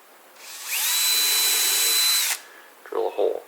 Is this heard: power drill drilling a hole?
yes